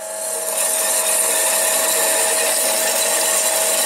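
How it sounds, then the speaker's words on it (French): A knifemaker's power saw cutting knife blade stock in a workshop, a steady high-pitched whine that starts up and holds evenly, loud and close with no voices. "c'est une scie dont je me sers assez souvent, notamment pour venir couper les lames"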